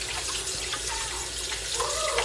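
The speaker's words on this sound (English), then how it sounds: "So you gotta take and rinse them real good." Maktak, whale skin and blubber, being rinsed under running water in a sink: a steady close wash of splashing and trickling flow.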